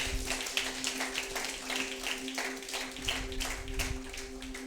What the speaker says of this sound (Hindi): उस यीशु को जोरदार ताली बजाकर महिमा करें।